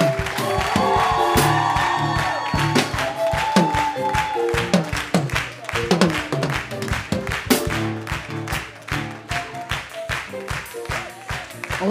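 A church congregation applauding and cheering, a dense, close wash of clapping with whoops and voices rising and falling throughout.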